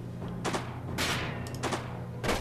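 Gunfire in the World War II tactics game Silent Storm: a few sharp bursts of shots, moderately loud over a low steady background hum.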